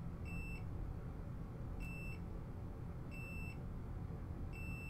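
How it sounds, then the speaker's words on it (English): Four short electronic beeps from a multimeter in continuity mode at regular intervals over a steady low hum, each a bright high tone lasting under half a second. "touch the two probes together and it beeps"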